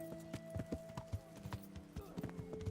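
Horse hooves clip-clopping in the medieval video game Kingdom Come: Deliverance, a quick steady rhythm of close, clear hoof falls over a constant tonal background.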